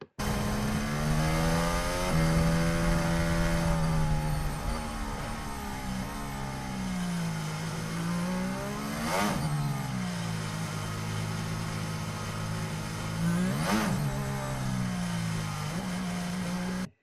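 Lewis Hamilton's Formula 1 car crawls slowly around the Abu Dhabi circuit in 2021, its engine a continuous low, buzzing drone that wavers gently in pitch, with two brief whooshes partway through.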